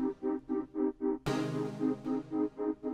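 Repeated short synth stab chords pulse rhythmically, about ten hits, with a sustained brighter pad chord swelling in partway through; loud and close, no voices.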